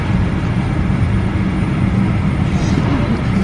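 Steady engine drone fills an economy-class airplane cabin on a short-haul flight, a loud constant rumble that holds evenly throughout.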